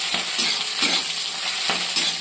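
Onions sizzling as they fry in hot oil for a chicken dish, a steady bright hiss with occasional stirring scrapes, close and loud, no voices.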